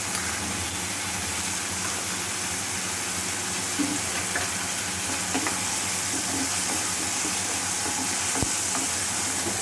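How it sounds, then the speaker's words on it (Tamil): Onions sautéing with salt in a pan for an egg curry, a steady soft sizzle with occasional stirring scrapes, continuous and fairly close throughout, with no talking. "இது நல்லா ஒரு பொன்னிறமாக வதங்கணும்"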